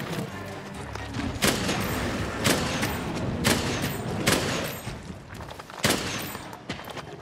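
Poison ammo being fired from a bowgun in the Monster Hunter World beta, with repeated loud, sharp shots cracking every second or so over dense, busy in-game combat noise.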